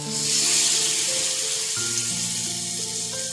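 Masala-coated yam pieces frying in oil on a dosa pan, a close, even sizzle with a steady bright hiss, while a soft melodic music bed plays underneath.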